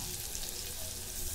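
Cumin seeds crackle in hot oil, a dense even sizzle with fine popping, close but fairly soft and short, with no voices.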